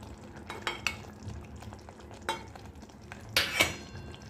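Spices are stirred into Konkani-style usal frying in a pan, with soft scraping strokes and a few sharper spoon clinks against the metal over a low sizzle.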